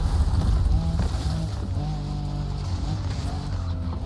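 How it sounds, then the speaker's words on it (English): A Nissan Skyline engine from the driving game The Crew, a steady droning hum that stays loud and even throughout with no breaks. "this does not sound like a Skyline"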